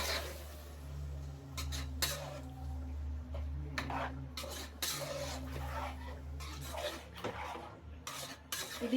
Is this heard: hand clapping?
no